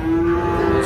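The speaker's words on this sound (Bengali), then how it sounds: "প্রচুর চাহিদা সম্পন্ন শাহিওয়াল জাতের ষাঁড় বাছুর যেখানে কেনাবেচা হচ্ছে" Sahiwal bull calves at a busy cattle market, lowing in one long, loud, steady moo close by with crowd noise underneath.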